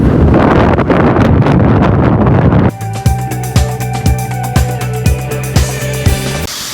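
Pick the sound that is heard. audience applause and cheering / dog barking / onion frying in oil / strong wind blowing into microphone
strong wind blowing into microphone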